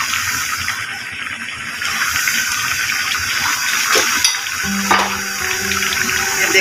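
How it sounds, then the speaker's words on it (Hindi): Plum chutney simmers in a pan with a steady close-up hiss and soft bubbling sizzle, and a few faint clinks near the end. No one speaks. "अब ये देखें 10 मिनट हो गए हमारी आलू बुखारे की चटनी पक रही है।"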